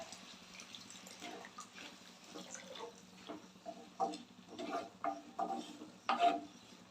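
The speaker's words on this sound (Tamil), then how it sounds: "இப்போ இதில் நம்ம தேவையான அளவு தண்ணி சேர்த்துக்கலாம்" Quiet pouring and sloshing of water into a pot, irregular splashes growing slightly louder toward the end.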